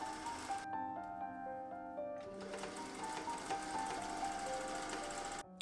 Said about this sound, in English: I sewed the two sides together by machine